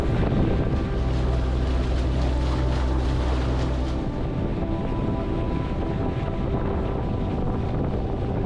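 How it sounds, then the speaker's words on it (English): An outboard motor drones steadily as a small boat travels up a lake, a continuous loud engine rumble mixed with rushing wind and water noise throughout. "in his boat with the outboard motor,"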